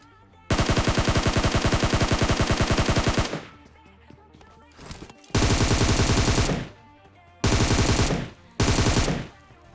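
Rapid automatic gunfire in a battle royale video game rattles out in several long, loud bursts separated by brief pauses, close and dominant over faint background sound.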